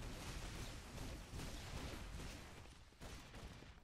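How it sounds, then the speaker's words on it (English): Rapid gunfire and explosive blasts from an Unreal Tournament 4 pre-alpha match crackle in dense bursts, faint and distant in the mix, with no speech. "I can hear gunfire."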